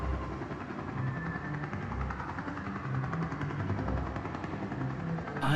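Noisy helicopter circling overhead in the video game Dreams of Another, a continuous low rotor drone with a soft pulsing beat, steady and somewhat distant with no voices.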